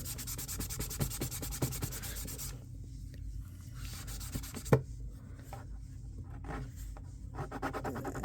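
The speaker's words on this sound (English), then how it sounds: "It's going to take a little more rubbing. We got a bunch of residue on there." Rubbing sounds as a toy tank's decals are scrubbed to lift leftover residue, a steady close scratchy friction with short strokes and one sharp tap midway, no talking.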